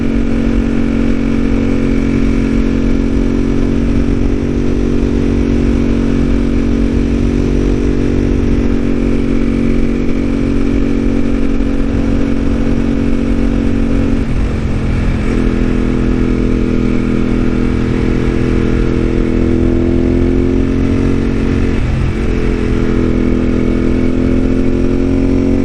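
A motorcycle riding on the Hakone Turnpike, a loud sustained engine drone heard close from the rider's position, steady throughout with brief dips as the throttle eases.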